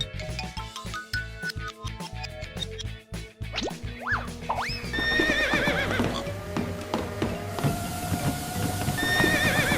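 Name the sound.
horse neighing and hooves on a treadmill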